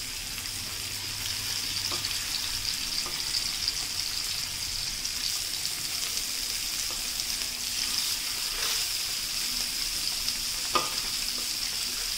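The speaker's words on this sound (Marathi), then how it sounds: "आता आपण ह्यामध्ये मच्छी सोडून घेऊयात" Katla fish fries in hot oil with garlic, producing a close, continuous sizzle with occasional sharper pops and crackles throughout.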